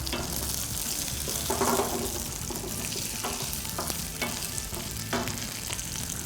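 Green chillies sizzle and fry in a pan for a brinjal fish curry, a steady loud crackle with several scraping stirs of a spoon against the pan.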